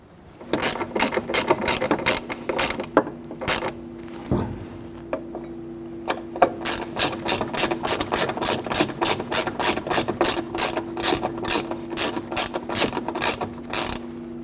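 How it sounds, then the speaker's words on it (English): A ratchet clicks in fast repeated bursts, tightening the lower bolts at the base of a 1997-2006 Jeep Wrangler windshield cowl, with short pauses between rounds of steady, close metallic ratcheting and no talk. "install our lower bolts at the base of the windshield. Tighten this one down"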